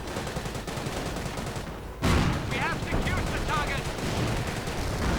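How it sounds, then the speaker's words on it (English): Nebelwerfer rockets and gunfire crackle in a WWII strategy video game, with a steady wash of battle noise and a sharp burst of rapid shots partway through. "Nebelwerfer fire, I suspect"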